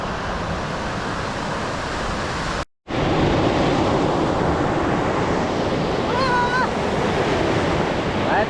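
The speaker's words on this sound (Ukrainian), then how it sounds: "І ось такі хвилі" Steady roar of North Sea waves breaking on the shore at Farsund, Norway, with heavy wind buffeting the microphone, a brief dropout, and faint voice-like tones later.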